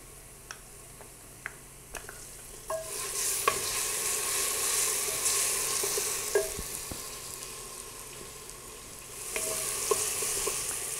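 Ginger garlic paste sizzles steadily as it fries in hot oil with browned onions, a soft continuous crackle broken by occasional clicks and scrapes from stirring, with no talking.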